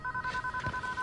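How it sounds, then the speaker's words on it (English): A telephone ringing in the 2006 stoner comedy film Grandma's Boy, a short burst of rapid electronic trilling tones held at a steady pitch, fairly quiet, with a faint low thump partway through. "What is that ringing?"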